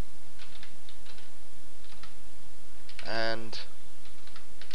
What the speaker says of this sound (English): inside the instance block, I'll type in system.out.println,